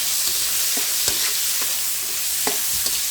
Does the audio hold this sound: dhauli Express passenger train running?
no